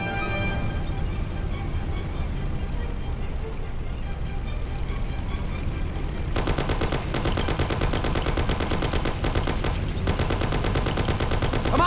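Thompson submachine gun fire in the 2002 game Mafia: The City of Lost Heaven, rapid bursts erupting after a rumbling engine-like bed, loud and continuous over the last half, with voices present.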